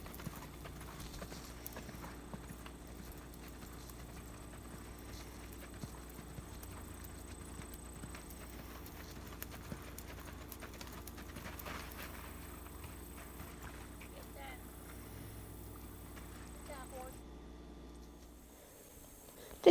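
A mare's hooves clop softly and steadily along a road at a flat-foot walk, faint and distant under a continuous outdoor background hum.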